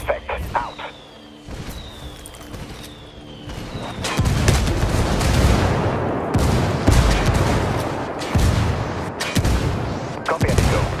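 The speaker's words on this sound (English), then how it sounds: "I'm calling for indirect fire." Indirect artillery fire lands in Ghost Recon Wildlands, with sharp reports early on giving way to a dense, rumbling stretch of booms and crackling fire that swells and fades through the clip.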